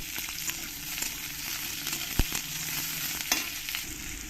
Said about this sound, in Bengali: এবার এখানে যে নিয়েছে গোটা আদা রসুন আর পেঁয়াজ এগুলো একটু ভালো করে আমি ভেজে নেব